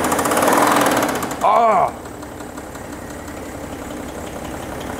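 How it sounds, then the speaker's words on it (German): A VW T5 van engine with a suspected failed connecting-rod bearing, not running on all cylinders, revs loudly, then drops back to a rough knocking idle; a voice briefly exclaims as the revs fall. "Läuft auch nicht auf allen Zylindern."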